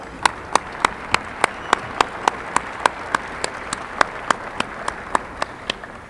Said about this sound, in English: Please join me in a round of applause to thank all these great people.